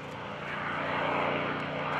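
A North American P-51D Mustang propeller fighter passes at a World War II air show, its loud piston engine drone rising steadily and filling the whole moment without any voices.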